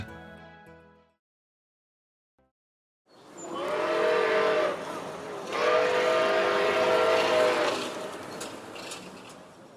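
The Nickel Plate 765 steam locomotive on the line to Youngstown sounds two long, loud whistle blasts over a rumbling background after a brief quiet start.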